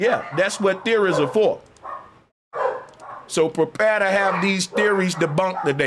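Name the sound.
dogs barking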